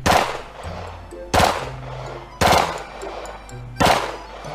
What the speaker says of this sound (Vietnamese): cây súng lục G18 này nó rất nhanh và rất là mạnh anh em ạ